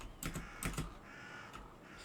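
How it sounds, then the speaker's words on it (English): Crows caw in a video game, several harsh calls in quick clusters followed by a single later caw, fairly close over a faint background. "I just need to speak to all the birds."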